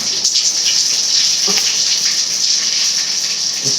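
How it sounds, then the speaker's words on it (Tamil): Mustard seeds splutter in hot oil in a pan, making a loud, steady sizzling hiss with scattered crackles that runs without pause for the few seconds, close by. "எண்ணெய் காஞ்சிடுச்சுப்பா. இப்போ வந்து கடுகு போடணும்."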